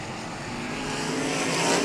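Figure-eight race cars racing at Showtime Speedway, their engines a dense roar that builds steadily louder, heard from trackside with no voices.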